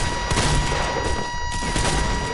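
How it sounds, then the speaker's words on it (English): Dense, continuous video game shotgun gunfire in a shootout, with overlapping blasts forming a steady loud barrage and no clearly separated single shots. "We're having such a good shotgun battle"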